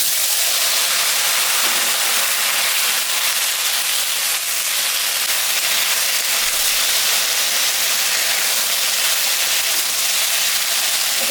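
Onion, taro and potatoes sizzle and fry in a pan, a steady dense hiss that stays loud and unbroken throughout.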